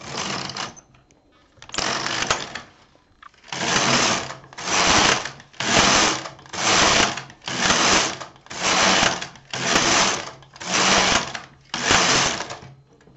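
A knitting machine carriage is pushed back and forth across ten rows, a series of regular whirring, rattling passes of about one second each with short gaps between, close and fairly loud, preceded by a few irregular clicks and shuffles.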